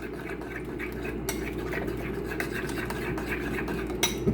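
Spoon stirring cultured cocoa yogurt in a bowl for a vegan tzatziki, a steady soft scraping and clinking close by with low background hum, no talk.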